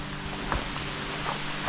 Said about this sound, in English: Hear that sound of rain?